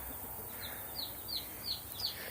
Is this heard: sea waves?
no